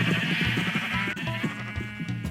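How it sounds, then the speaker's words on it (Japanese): Sheep in Minecraft bleat in a quick run of wavering calls, clear and close, with no talk. "羊も餌に釣られてきてしまいました"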